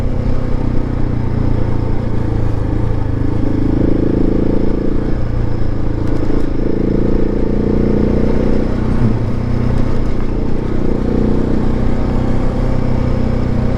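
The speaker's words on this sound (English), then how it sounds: "They're not expecting to see a guy out here on a motorcycle in these kind of conditions" A motorcycle engine drones steadily and loudly throughout a ride on a road in rough conditions, a continuous rumble mixed with wind noise and slight shifts in pitch.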